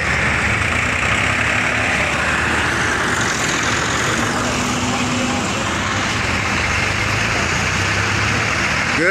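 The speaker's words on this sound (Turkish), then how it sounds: "Traktörler kantara gidiyorlar, çıkıyorlar satılan sarımsaklardan." Tractors idling in a queue at a weighbridge at a garlic market in Taşköprü, Turkey, give a steady, droning low engine rumble with faint traffic noise, continuous and moderately close.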